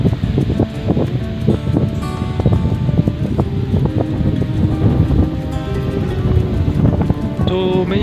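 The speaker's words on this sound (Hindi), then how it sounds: "हवा बहुत तेज़ चल रही है माशाल्लाह।" Strong wind gusting across village crop fields in Swabi, Pakistan, a steady loud rustling roar with buffeting microphone noise that fills the whole stretch, with no speech.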